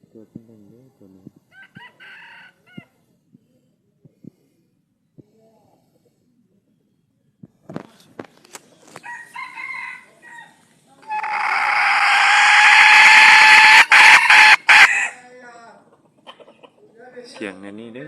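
A Thai fighting rooster crowing loudly and close for a few seconds, following scattered clucks and quiet clicks, with someone speaking briefly before it.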